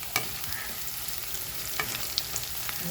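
Soya chunks frying crisp in hot oil, a continuous bright sizzle with a few light stirring taps, close up and with no voices.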